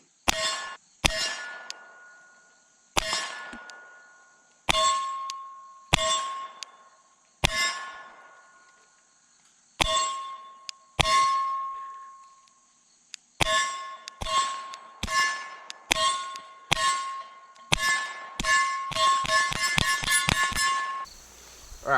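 Suppressed Lipseys Retro Glock P80 rounds striking steel targets, a series of sharp ringing clangs with decaying tones, spaced irregularly at first and then coming in a rapid string of hits near the end.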